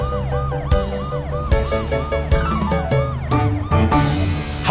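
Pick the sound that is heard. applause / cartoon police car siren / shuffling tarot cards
cartoon police car siren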